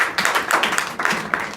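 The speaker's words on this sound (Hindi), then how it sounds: "इनके लिए ताली बजाइए" An audience at a school program applauds with brisk, close clapping that stays dense and steady through the short burst, with no talking.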